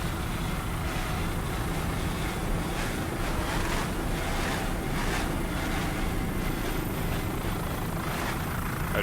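A 30-foot AMT powerboat racing in the Superstock class at the 2002 Miami Grand Prix, its engine a loud, steady roar mixed with wind and water rush throughout.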